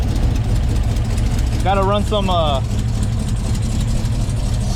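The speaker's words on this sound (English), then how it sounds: "Well, it's idling." A cammed LT1 V8 in a 2017 Chevrolet Silverado idles with a steady, loud low rumble, close by and continuous, while someone speaks briefly over it.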